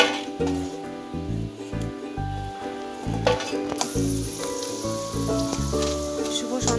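Small bata fish frying in a pan, a continuous close sizzle with scattered clinks of utensils against the pan and a few sharper crackles.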